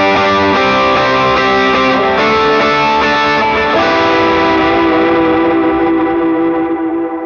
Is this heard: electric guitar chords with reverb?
yes